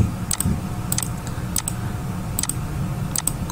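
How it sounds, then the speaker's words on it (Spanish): A computer mouse clicks repeatedly at an irregular pace while the control key is held, sharp and close, over a steady low hum, with no talking. "con el control, clic, clic, clic, clic, clic, clic"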